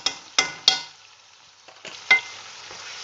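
Ginger and garlic paste frying in a pan for a prawn biryani, with a few sharp stirring scrapes over a soft, close sizzle that fades between strokes.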